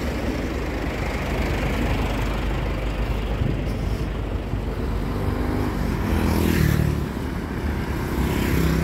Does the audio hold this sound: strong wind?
no